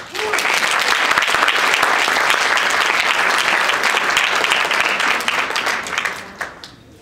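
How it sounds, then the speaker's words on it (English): A convention audience gives a sustained round of applause, dense clapping from many hands filling the room at close range for several seconds before tapering off quickly at the end. "Round of applause."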